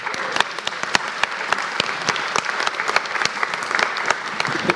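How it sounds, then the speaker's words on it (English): An audience applauds steadily throughout, a dense, even patter of clapping hands that holds at a fairly loud level from start to finish. "Give them a round of applause"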